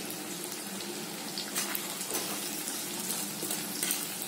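Masala sautéing in a clay pot for a village-style pepper kuzhambu, with turmeric powder added. A continuous soft sizzle and crackle runs steadily for a few seconds, close and moderately quiet, with occasional slightly louder spits.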